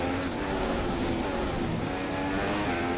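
A Formula 1 car in the F1 2016 video game laps the Singapore street circuit in qualifying, its engine a loud, continuous high-pitched whine that holds steady and close with no gaps.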